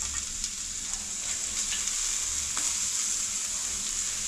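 Cut coriander leaves fry in a pan with turmeric for a village-style chicken green masala, giving a steady close hiss and sizzle with a few faint stirring clinks.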